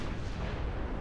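An 11-inch naval gun salvo in Ultimate Admiral Dreadnoughts gives a short, heavy boom that swells into a dense, rumbling roar and fills the whole moment.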